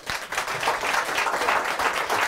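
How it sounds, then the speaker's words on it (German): Studio audience at a German talk show applauding a guest, a dense, even roar of many clapping hands sustained at a strong level throughout, with no speech on top. "Applaus!"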